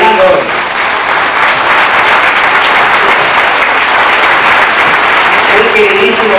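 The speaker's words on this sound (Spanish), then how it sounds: "Fuerte aplauso para Antonio" A dense, steady wash of audience applause fills the space without a break, with clapping from many hands at a tango tribute event honouring a milonga dancer.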